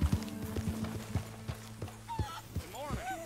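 Horse hooves clip-clopping in a steady trotting rhythm while riding in Red Dead Redemption 2, close and fairly quiet, with speech over the top toward the end.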